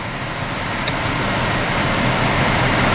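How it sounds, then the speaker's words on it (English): The engine cooling fans of a Honda Civic run under the hood, making a loud, steady whooshing drone. One brief click comes partway through, and no one speaks. "Heard the cooling fans kick on."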